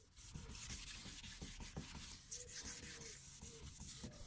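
A car headlight lens is hand-sanded with quick back-and-forth strokes, giving a close, rhythmic scratchy rubbing that repeats several times a second with small pauses between passes.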